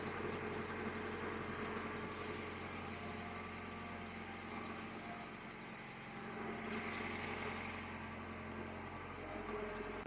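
Acura CL engine idling on a frozen Minnesota winter day, a steady low rumble with a constant hum running evenly throughout, no voices.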